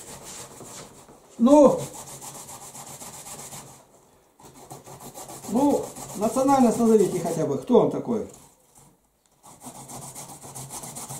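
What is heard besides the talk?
grating carrots by hand on a grater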